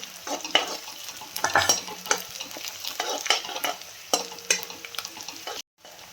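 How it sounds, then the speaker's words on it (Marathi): Five green chillies frying in a pan, a continuous close sizzle with repeated spatula scrapes and taps against the metal as they are tossed, ending in a brief silence. "याला पण चांगलं फ्राय करायचं."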